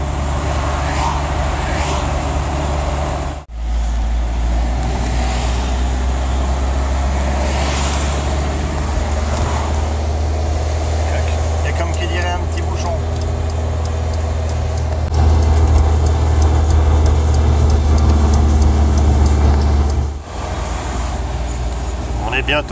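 A tow truck rumbles steadily along a road, its deep engine drone continuous with brief dips, while someone talks over it inside the cab.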